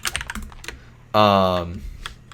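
Computer keyboard keys tap and a mouse clicks in quick irregular bursts during gameplay of a hockey tutorial, broken by a loud sustained tonal in-game sound in the middle, with faint talk around.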